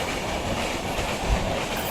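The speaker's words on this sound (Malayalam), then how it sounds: "അപ്പോൾ നമ്മുടെ മുന്നിലൂടെ ഒരു ട്രെയിൻ പോയിട്ടാ" A train rumbles past nearby, a steady broad roar with faint rhythmic clatter, no voices.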